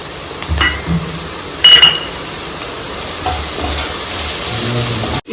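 Onions browning with turmeric powder in a pan for coriander chicken gravy, a steady close sizzle and crackle of frying with a few utensil scrapes and clinks, no talk.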